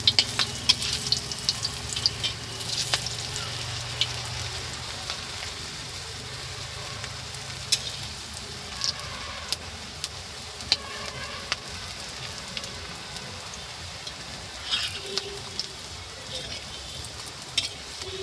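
Jackfruit kofta balls fry in oil with a soft, steady sizzle, sprinkled with small pops and crackles, moderately quiet throughout with no one speaking.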